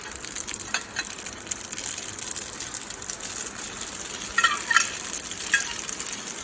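Spaghetti going into a frying pan for aglio e olio, with a steady broadband sizzle and a few scraping, clattering bursts of tossing and stirring, close and moderately loud with no talking.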